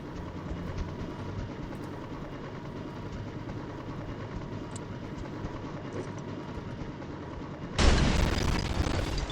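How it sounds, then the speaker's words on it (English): Airstrike explosions in Mercenaries: Playground of Destruction, a long low rumbling roar of distant blasts followed by a sudden, louder, harsher blast near the end. "There's also other airstrikes."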